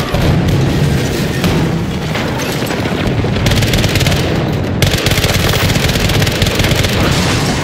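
Rocket blast at point-blank range in Battlefield 2042, part of a loud, dense barrage of booms and rapid gunfire that fills the whole stretch without letup.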